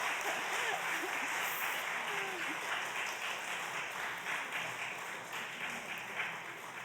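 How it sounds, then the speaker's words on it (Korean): An audience at a church Sabbath school gathering applauds steadily, a dense wash of clapping that holds throughout and slowly tapers slightly toward the end. "우리 박수로 좀 환영을 해주시면 감사하겠습니다."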